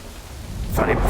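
Rain and rumbling thunder in the video game Death Stranding, a hissing downpour swelling into a louder low roll within about a second.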